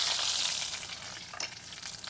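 Onion and dried red chilies frying in hot oil in a pan, a dense, close, steady sizzle with faint stirring scrapes, no voices.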